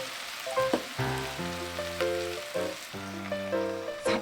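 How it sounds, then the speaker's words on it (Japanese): Supermarket yakisoba noodles, meat and bean sprouts steam-frying with sake under a lid in a pan: a soft, steady sizzle and hiss underneath louder melodic background music. "酒が蒸発するまで蒸し焼きにします"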